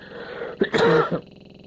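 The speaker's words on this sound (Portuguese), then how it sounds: "Tem que tossir de novo aqui." A single close throat clearing merging into a short cough, a brief rough burst that stops abruptly, with no talk around it.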